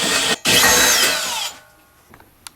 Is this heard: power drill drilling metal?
yes